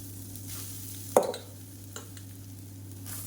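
Cooked rice mixed with podi powder is stirred in a pan over a steady low hum, with one sharp scrape or clank of the spoon and a softer tap afterward.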